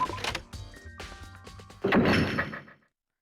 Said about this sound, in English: The door just locked on its own.